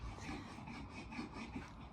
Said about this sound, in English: if you can hear sawing, that's husband in shed